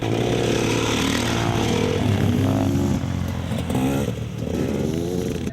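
Off-road motorcycles ridden by local bikers doing stunts on unpaved ground roar continuously, engines revving and rising in pitch with harmonic whine, buzzy and fairly close, with no talk.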